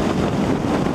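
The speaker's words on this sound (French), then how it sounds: "C'est quoi ce vent de taré hein." Strong wind roaring over a microphone while riding a motorcycle, a dense, loud rushing buffet that fills the moment continuously with no voices.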